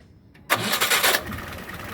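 A Willys CJ-3B jeep with its Hurricane engine starting: a brief crank, then the engine catches with a loud roar that settles into a steadier run, heard up close.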